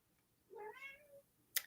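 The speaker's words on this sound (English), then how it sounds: "My cat's yelling at me." A cat meows once, a drawn-out rising and falling cry at moderate distance indoors, followed by a brief sharp click.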